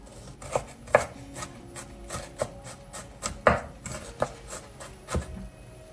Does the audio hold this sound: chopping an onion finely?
yes